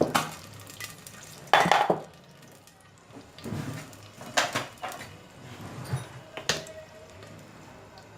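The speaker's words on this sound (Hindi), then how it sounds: "ऑयल ऐड करके उसमें आपने ये ग्रीन प्याज का जो वाइट वाला पार्ट है वो ऐड कर दीजिएगा।" Spring onion whites going into half a cup of hot oil in a clay pot, giving faint sizzling with scattered clinks and stirring scrapes of utensils against the pot, fairly quiet and close.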